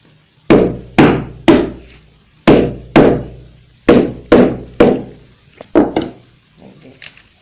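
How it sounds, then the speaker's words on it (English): A hammer drives down a rivet on a chain for a fabric clutch, about nine sharp, loud, close strikes in an uneven rhythm, followed by a few lighter taps. "So you use your hammer to also hammer down"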